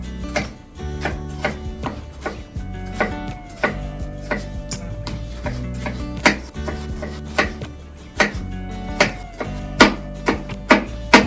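A knife chops vegetables for a healthy meal prep salad, steady rhythmic blade strikes on a cutting board, close and fairly loud, with no talking.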